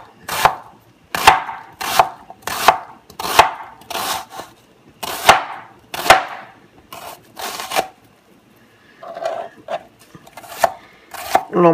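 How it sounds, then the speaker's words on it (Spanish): A small kitchen knife finely chopping an onion on a board, sharp close knocks in a steady brisk rhythm for several seconds, a short pause, then a few more scattered cuts, with no speech. "vamos a picar nuestra cebolla lo más pequeñito que usted pueda picar."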